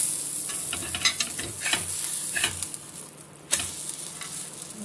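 A rice-and-urad-free dosa cooking in a little oil on a pan, a soft steady sizzle broken by several sharp scraping and tapping sounds from a spatula, close and without voices.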